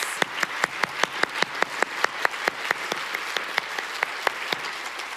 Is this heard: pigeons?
no